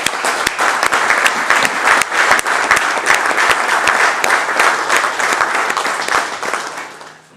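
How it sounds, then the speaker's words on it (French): Members of Côte d'Ivoire's Council of Ministers applaud President Alassane Ouattara, sustained loud clapping from a room of people with sharp individual claps throughout, fading out at the end. "nous voulons également vous applaudir"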